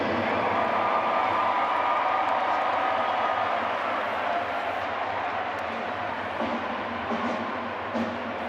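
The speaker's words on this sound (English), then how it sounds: "Royal Latin fans still noisy, still clapping" Fans of Royal Latin School at a schools under-18 rugby cup final outdoors, a steady wash of crowd noise with scattered clapping and cheering that fades slightly toward the end.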